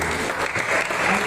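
A church congregation applauding for Jesus during a sermon, loud continuous clapping with voices mixed in.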